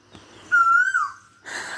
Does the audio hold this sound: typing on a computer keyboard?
no